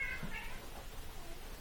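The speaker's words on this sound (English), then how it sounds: "a cat for some reason just decided to become active while we started recording" A cat gives a brief, faint meow at the start, thin and quiet against a low room background, with no speech over it.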